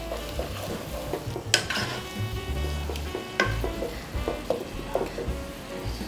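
Goat meat browning in a hot pan gives a quiet, uneven sizzle close by, with a few sharp clinks of utensils against the pan.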